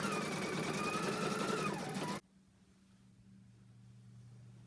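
A sewing machine stitches a single row on a Kimberbell Kimberbear project, giving a steady, close whirring hum for about two seconds before stopping abruptly, leaving a quiet room hum.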